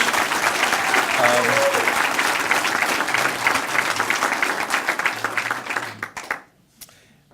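Audience at a mayoral speech applauding the city council, sustained loud clapping that thins out and stops near the end, with a few voices underneath.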